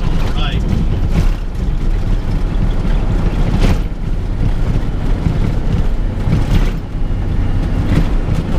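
A Peterbilt heavy-hauling truck crosses a creek, heard from inside the cab as a loud, steady low engine rumble with rushing, wind-like noise. Someone talks over it.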